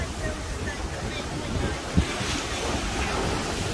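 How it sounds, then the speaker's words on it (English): Wind gusts and big waves crash against a sea cliff on Isla Mujeres, a steady roaring wash buffeted by wind noise on the microphone, with a brief thump near the middle and no clear talking. "windy and big waves."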